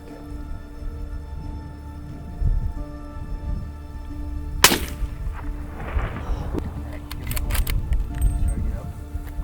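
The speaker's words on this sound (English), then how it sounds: "Luckily got a good shot on him" During a West Texas aoudad hunt, a single sharp rifle shot cracks out in the middle of quiet outdoor ambience, followed by a faint tail and some rustling.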